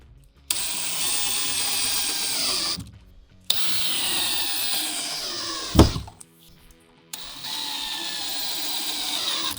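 A power driver sinks pocket hole screws to attach a wooden shelf, in three sustained whirring bursts separated by short pauses, with a brief clunk between the second and third.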